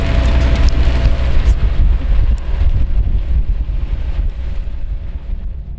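Strong wind with hail on a sailing yacht, heard as a continuous loud roar and buffeting rumble that stays steady throughout, with no voices.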